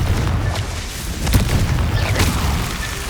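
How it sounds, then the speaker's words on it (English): Confringo fire spell blasting in the video game Hogwarts Legacy: a couple of brief booming bursts ring out over a steady rumbling game backdrop, loud and close, with no talk. "Confringo!"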